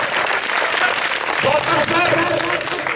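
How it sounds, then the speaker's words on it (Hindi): Audience applause at a theatre festival event, Bharat Rang Mahotsav 2025, a steady, dense clapping wash lasting throughout, with a voice speaking over it in the second half. "सर, गौतम सर, जोरदार ताली होनी चाहिए"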